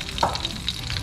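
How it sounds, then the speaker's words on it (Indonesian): Chili, garlic and shallots frying briefly in hot oil, a soft steady sizzle with a faint stirring scrape, quiet and close. "Diawali dengan menggoreng cabai, bawang putih,"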